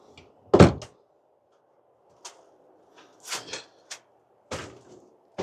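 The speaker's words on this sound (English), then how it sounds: "So I'm going to staple that in there." Stapling inside an RV cabinet during water-damage removal: a loud staple-gun snap followed by several sharper clicks and knocks, spaced irregularly, close by with no talking.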